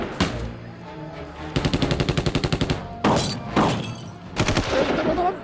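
Gunfire rings out at close range, with a few single shots, then a fast rattling automatic burst, then several more heavy reports, mixed with faint background shouting.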